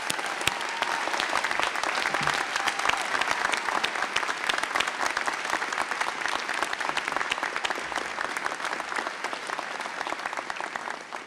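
Steady, dense applause from a commencement audience welcoming the keynote speaker at a 2015 public health school graduation, sustained and even throughout with no pause.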